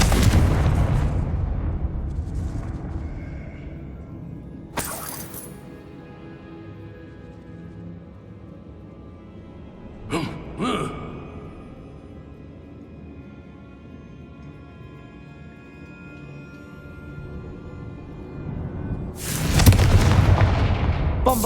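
Confringo spell blasts in the video game Hogwarts Legacy, a few sharp booming impacts spaced seconds apart over a low rumbling background, with one heavier explosion near the end.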